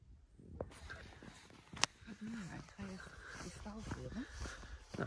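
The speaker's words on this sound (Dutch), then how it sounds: "Het enige wat je hoort is een hondje." A small dog gives a few short, sharp yaps at a distance, heard under a person talking outdoors in quiet countryside near Odeleite, Portugal.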